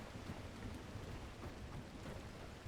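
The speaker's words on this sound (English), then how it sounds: "Oh, it's lightning." Steady rain and rumbling thunder in The Last Caretaker video game on a stormy oil rig, a dense, even wash of rainfall with a low rolling rumble underneath, fairly faint and constant, with no voices.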